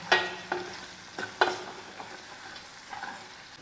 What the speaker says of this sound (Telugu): కొంచెం ఉప్పు వేసేసుకొని కలిపేసుకుందాం